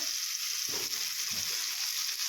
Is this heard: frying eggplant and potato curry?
yes